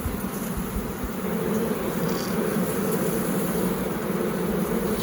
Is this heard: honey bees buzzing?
yes